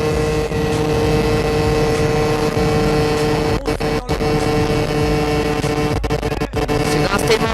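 A scooter rides at speed on a country road in Sainte-Brigitte-de-Laval, its engine droning loud and steady with heavy wind buffeting, plus a few brief dips in the roar.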